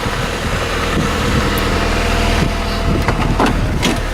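A 1994 Saturn SL2 with a 1.9 liter twin cam four-cylinder idles after a cold start, a steady low rumble with a rapid even pulse, close and continuous, with a few faint ticks and clicks over it.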